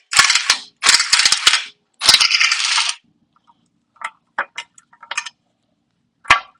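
A bolt is worked loose near the VTC valve of a blown Honda K24 engine during teardown. It starts with three loud bursts of rapid ratchet clicking, then scattered sharp metallic taps and clinks, close up with no talk.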